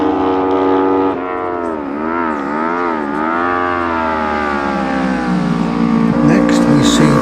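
A Kawasaki racing motorcycle in a Manx Grand Prix newcomers race sweeps past at Ballacraine, its loud engine note rising and falling through gear changes over steady road noise.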